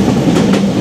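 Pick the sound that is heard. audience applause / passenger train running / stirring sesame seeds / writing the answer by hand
passenger train running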